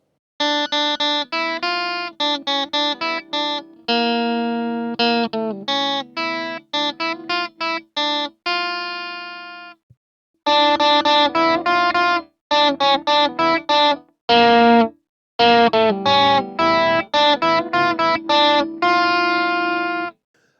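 An overdriven electric guitar through a Fender-style amp model plays bluesy phrases and quick riffs with a gritty, crunchy tone, pausing briefly midway before continuing.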